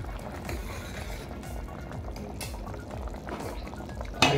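Watermelon rind kofta curry being stirred and mixed in a pan after garam masala and fresh coriander go in, a steady wet bubbling and scraping with soft utensil clinks, close and continuous, ending in a louder clatter.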